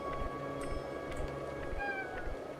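A cat meows during Sly Cooper 3 gameplay, a few soft, drawn-out cries heard over a steady background of game music and ambience.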